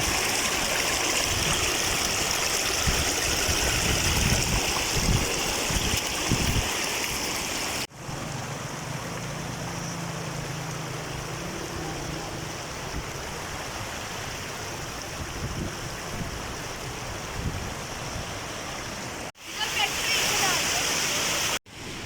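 A waterfall near Naran in Pakistan roars steadily at close range as a broad, continuous rush of falling water, briefly interrupted by cuts, with a voice faintly heard early on.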